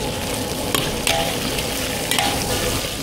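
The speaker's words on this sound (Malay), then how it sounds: "Kita goreng udang dulu mula-mula." Shrimp frying in hot oil in a pan for a shrimp stir-fry with roasted chili paste, a loud steady sizzle with a few sharp clinks of stirring and spattering.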